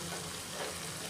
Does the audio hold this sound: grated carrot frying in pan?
yes